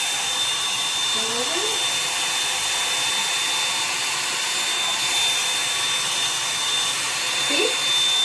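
Revlon hair dryer brush running steadily, a loud close whooshing drone with a thin high whine, while a voice speaks briefly over it.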